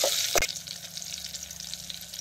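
Mustard seeds and garlic tempering in hot oil, stirred over a village wood-fired stove, with a brief louder scrape near the start and then a faint steady crackle and sizzle.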